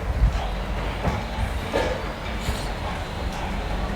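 A train ride in the horror video game Identity V gives a steady low rumbling rail noise with faint clicking, running continuously at moderate level without speech.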